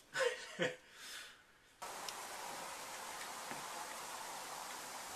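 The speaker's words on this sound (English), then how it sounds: "It started to hail out" Hail falls outside, beginning abruptly as a dense, steady hiss of pattering impacts after a few seconds of quieter sounds, continuing evenly to the end.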